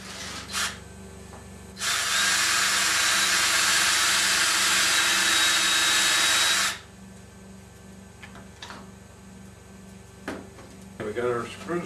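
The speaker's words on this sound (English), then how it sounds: "So let's go ahead and pre-drill that." A power drill whirs steadily for about five seconds at high speed, drilling a pilot hole, loud and close, with quieter handling noises before and after.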